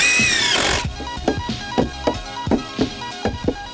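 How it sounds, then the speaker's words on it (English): Screws being driven into deck boards, a short burst of power driver whine followed by a series of sharp knocks and taps at regular intervals, close and fairly loud. "I'm getting a little bit ridiculous with how many screws I'm putting in"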